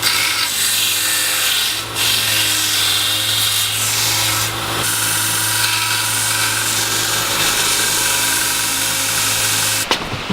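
A power tool grinds steadily, loud and close, sharpening a nail into a spike for a trench club, with a continuous abrasive whir and brief dips in pressure; no talk.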